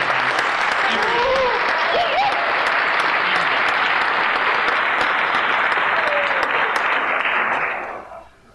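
A live audience at a disc golf pro panel claps in sustained, even applause that holds steady for several seconds, with a voice speaking over it, then fades out at the end.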